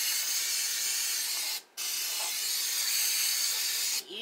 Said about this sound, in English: Let's spray it with some cooking oil